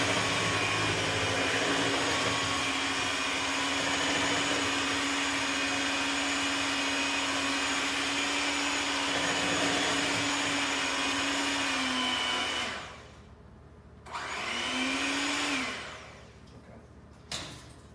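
An electric mixer whirring steadily through CBD cake batter, a loud continuous motor drone that cuts off, briefly restarts and stops again near the end.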